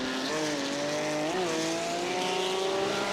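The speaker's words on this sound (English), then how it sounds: "I hope like every car doesn't sound just like this, you know?" Race car engine in the iRacing video game holding a loud, steady drone that dips and climbs slightly with gear and throttle changes, tires faintly hissing underneath, with no talk.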